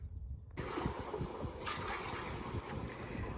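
An irrigation pivot starting to run water: after a moment of quiet, a sudden loud, close rush of flowing water sets in and continues as a steady hiss.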